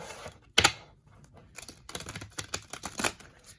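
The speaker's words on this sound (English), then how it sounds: "let me just shuffle." Tarot cards being shuffled, with a sharp riffle snap followed by a run of quick, soft flicking and slapping sounds close by.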